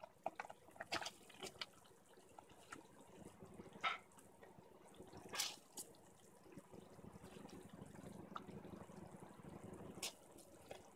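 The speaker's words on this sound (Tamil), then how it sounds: "இப்போ நம்ம ரைஸ் ஆட் பண்ணிக்கிறோம்." Rice poured into boiling water in a pressure cooker while cooking paneer biryani, with quiet splashes and sloshes over a low bubbling background.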